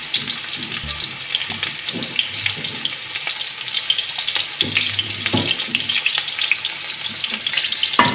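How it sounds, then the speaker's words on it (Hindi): Sliced onions frying in oil in a pan while sarson ka saag is being cooked, giving a steady crackling hiss with scattered sharp pops and light stirring scrapes, moderately loud and close throughout with no talk. "पैन में ऑयल शामिल करने के बाद मैं इसके अंदर डालूंगी प्याज और इसको हम हल्का सा फ्राई कर लेंगे"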